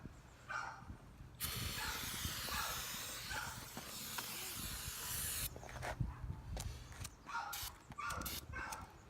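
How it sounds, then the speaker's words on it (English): Brake cleaner sprayed from an aerosol can around a Nissan S14 fuel pump during installation: a loud continuous hiss for about four seconds, with shorter spray bursts and clicks before and after. "just spray it around, and then just light it on fire."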